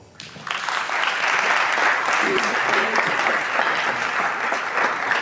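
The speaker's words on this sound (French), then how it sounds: "Applaudissons pour les parents." A graduation audience applauds for the parents. The clapping swells quickly after a quiet start into steady, full applause from a large crowd that carries on to the end.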